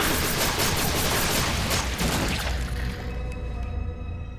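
Rapid bursts of gunfire crackle densely, loud and continuous, fading slightly toward the end with lingering echoes.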